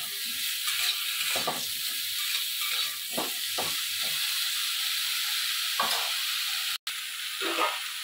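Eggplant pieces sizzle steadily in hot oil in a wok, a continuous loud frying hiss with intermittent scraping stirs throughout.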